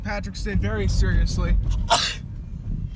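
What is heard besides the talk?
a person sneezing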